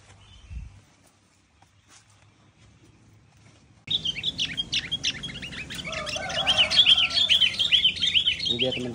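Wild birds near a bulbul trapping setup burst into busy, overlapping chirps and twittering after a few quiet seconds, close and lively, with soft background rustling.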